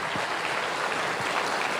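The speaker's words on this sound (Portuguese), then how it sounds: "Queria que vocês batessem uma salva de palmas para ele" Applause from an audience at a forensic homicide symposium, a steady wash of distant clapping filling the whole short stretch at low volume.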